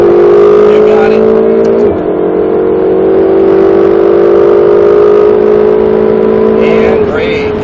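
A Ferrari 488 GTB engine pulls hard on a racetrack, a loud steady drone rising in pitch with a brief gear-change dip partway through, then climbing again near the end.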